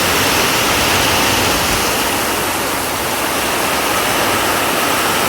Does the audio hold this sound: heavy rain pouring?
yes